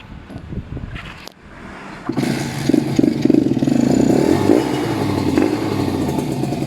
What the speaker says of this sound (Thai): นะฟังเสียงเครื่องกันดีกว่าตัดติดง่ายนะคันนี้